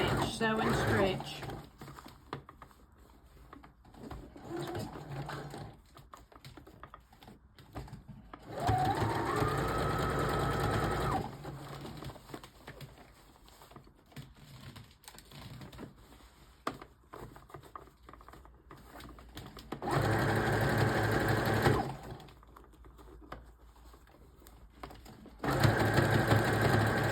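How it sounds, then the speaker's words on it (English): A sewing machine stitches stretch fabric in several bursts of rapid, even whirring, with quieter pauses between runs, while a person talks over the machine. "Continue to sew and stretch, sew and stretch."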